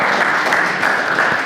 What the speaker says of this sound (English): Everyone give them a round of applause.